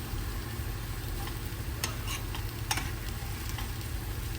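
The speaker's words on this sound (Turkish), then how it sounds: "Öncelikle salçamı kavuruyorum." Tomato paste fries in oil in a pan with a steady, fairly soft sizzle, broken by a few light scrapes and clicks of stirring.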